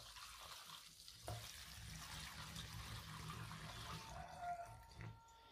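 Alcohol pours through a funnel into a container, a faint, continuous liquid trickle and gurgle that lasts several seconds.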